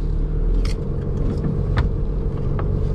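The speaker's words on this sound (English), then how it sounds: "This is my first time driving a truck with a long trailer" A truck pulling a long trailer rumbles steadily from inside the cab, with a low engine drone and a few faint rattles and clicks.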